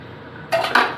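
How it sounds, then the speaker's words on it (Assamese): A lid set onto a metal pot of home-cooked chicken curry, heard as two quick metallic clanks after a soft background hiss. "ঢাকনাটো মাৰি দিলোঁ।"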